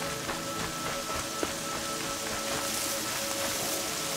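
Steady rain in Horizon Zero Dawn patters and hisses evenly throughout, with a faint tonal hum underneath and no talking.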